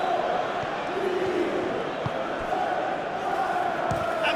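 Stadium crowd in a football video game simulating Scotland versus Cote D'Ivoire, a steady broad roar of applause and cheering filling the background throughout.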